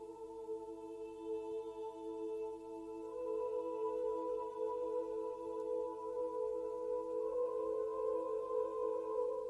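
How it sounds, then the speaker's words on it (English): Soft choir doubling sustained string chords, lowered in volume and drenched in reverb, a smooth, steady, airy chordal pad that swells slightly halfway through. "by doubling the string chords with a soft choir"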